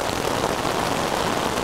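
Heavy rain pours steadily during a flood in the countryside, a dense, even hiss of drops hammering surfaces without pause and no voices.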